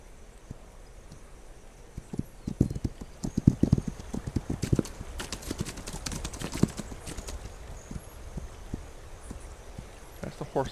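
Hooves of a horse clip-clop in the This Land Is My Land video game, an uneven run of close, sharp knocks that comes in bursts over a steady background, with a voice talking at times.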